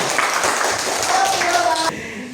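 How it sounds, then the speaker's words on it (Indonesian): Children clapping their hands together in a classroom, a dense, steady burst of claps close by that stops abruptly near the end. "Ayo tepuk tangannya."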